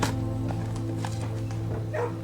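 A puppy in a kennel in the video game Blue Prince gives a few short, moderately loud barks and yips over a steady, droning music bed.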